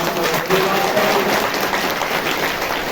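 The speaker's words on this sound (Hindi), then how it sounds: "ताली बजा के प्रभु का धन्यवाद" A church congregation at a Hindi-language worship service claps hands in praise to God, a brief, fairly loud patter of many hands that continues evenly through the moment.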